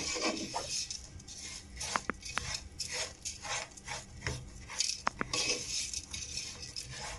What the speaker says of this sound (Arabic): نقلب باستمرار كده عشان ما يتحرقش من اجزاء ومن الحروف